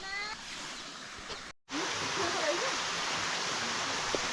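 Water from a jungle waterfall pours in a steady broadband rush, close and continuous, briefly cut off once and then resuming, with faint bird-like chirps over the flow.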